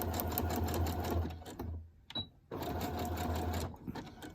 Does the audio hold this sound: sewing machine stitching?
yes